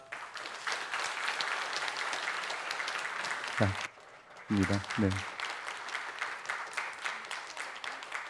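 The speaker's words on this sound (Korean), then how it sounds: "우리 인사할 때 환영과 축하의 박수 하겠습니다" Church congregation clapping to welcome newly baptized members during a Sunday service, sustained applause broken briefly by someone speaking and a short pause, then resuming full and steady.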